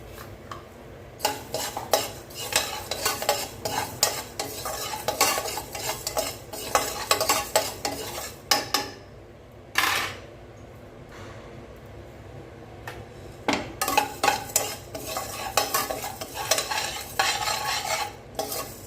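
Coriander seeds are dry-roasted in a pan with black pepper and cumin for a fenugreek kuzhambu spice mix. A spoon clatters against metal in fast, busy stirring, with short pauses and a few dull knocks.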